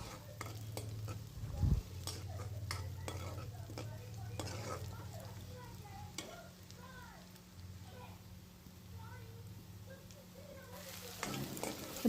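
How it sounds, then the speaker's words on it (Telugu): Sliced onions and green chillies fry in oil for a village-style boti curry, giving a steady close sizzle with frequent scraping and tapping from stirring throughout. "ఇప్పుడైతే ఉల్లిపాయలను పచ్చిమిర్చి అయితే వేసుకున్నానండి. మంచిగా వేయించుకుంటున్నాను చూడండి ఆయిల్లో."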